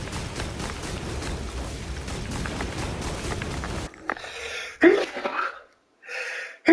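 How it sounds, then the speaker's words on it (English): One person sneezes several times in quick bursts with sharp breathy onsets and short gaps, after a stretch of steady background noise from a game. "Get these sneezes out."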